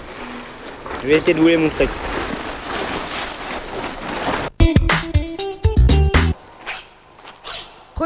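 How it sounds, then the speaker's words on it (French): Crickets aboard a becalmed sailing boat chirp in a loud, steady high-pitched trill, then give way to sharp clicks and rustles as someone speaks briefly over them. "il y a un petit couple de grillons à bord du bateau. Et ça fait un barouf."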